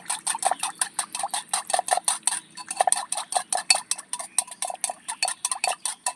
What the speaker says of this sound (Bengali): দইয়ের মধ্যে হালকা কিছুটা বিট লবণ দিয়ে দেব, দিয়ে আবার সুন্দর করে ফেটিয়ে নেব